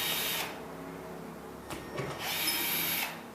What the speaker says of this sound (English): pull the old screws out